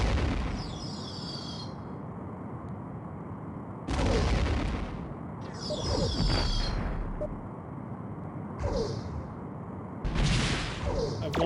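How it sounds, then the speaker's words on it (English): Torpedo launches and explosions in Star Trek: A Final Unity, a space combat game: four loud broadband blasts, each starting with a sharp whoosh, one after another over a low rumbling battle background. "Torpedo away."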